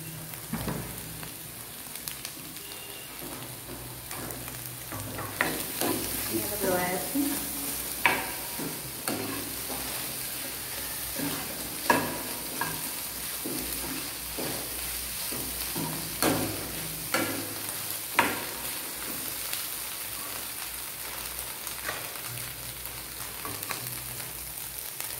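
Soybean oil sizzles steadily in a hot wok (kadai), a continuous hissing fry at close range broken by periodic sharp clicks and scrapes of stirring.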